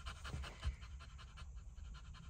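A puppy pants rapidly and close by, a steady breathy rhythm of quick huffs that continues throughout with no talking.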